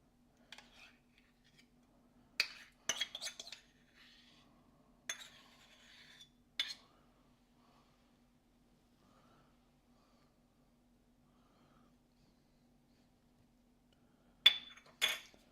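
Greek yogurt spooned into a dish for a chicken casserole: scattered light clinks and scrapes of a spoon against the container, some in quick pairs, separated by near silence in a quiet room.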